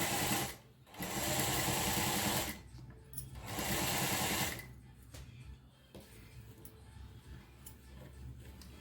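Sewing machine stitching chudidar fabric with lining, running in two loud, steady bursts of about two seconds each separated by short pauses, then quieter mechanical handling noise afterward.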